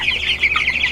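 Meat chickens cluck around a filled feeder trough, a steady overlapping chatter of several birds close by, with no talking.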